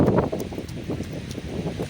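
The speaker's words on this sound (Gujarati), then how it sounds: "અહીંયા બેકગ્રાઉન્ડમાં થોડોક પવન આવે છે માફ કરજો અવાજ ક્લિયર નહીં આવે" Steady wind buffeting a microphone outdoors on a beach at Surat, a continuous low rumble with gusty swells, loud and close throughout.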